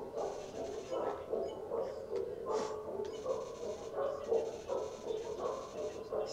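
Dog whimpering and yipping in the video game Undertale, repeated short whiny cries rising and falling over a steady game hum, moderately loud and close, with a couple of brighter chirpy accents.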